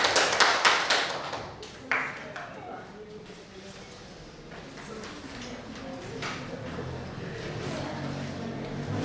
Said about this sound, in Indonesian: beri aplaus dulu kelompok 2